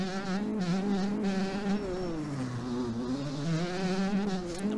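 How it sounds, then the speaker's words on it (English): A KTM 125 two-stroke dirt bike in the MX Bikes video game buzzes steadily over braking bumps, its high, raspy engine note wavering up and down as the throttle and revs shift. "love the sound like two-stroke over those braking bumps there"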